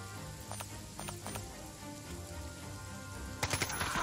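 Night rain falls steadily in the video game Jagged Alliance 3, a constant soft patter with a few faint ticks and a brighter burst of drops near the end, and nobody speaks.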